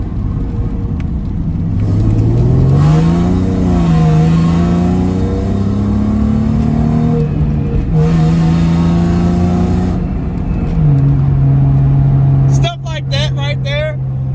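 Car engine accelerating through rising revs with gear changes while driving on a slippery road, loud and close from inside the cabin, with a brief tire chirp near the end.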